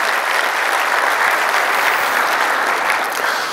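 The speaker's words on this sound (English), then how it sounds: "So if you could join me in a round of applause for the PSPRS staff." A conference audience breaks into loud, sustained applause, a continuous wash of clapping hands from a large crowd in a hall, steady from start to finish.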